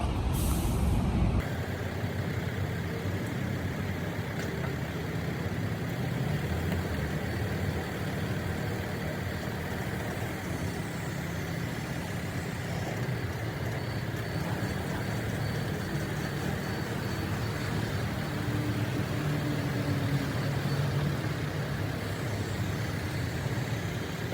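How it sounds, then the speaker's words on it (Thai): A used car is loaded onto a slide-on tow truck in rural Thailand, beginning with a sharp air-brake hiss, then a long steady diesel idle and hydraulic drone heard close and continuous, with no talking. "ราก็เอารถขึ้นสไลด์ออนเรียบร้อยแล้วนะคะ"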